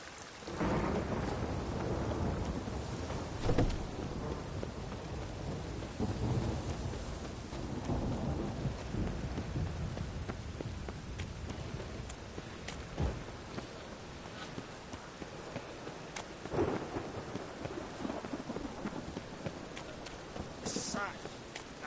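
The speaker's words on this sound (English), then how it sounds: "The rain will ruin it." Rain and a thunderstorm in The Witcher 3: Wild Hunt: steady, dense rainfall with several deep rolls of thunder swelling and fading throughout.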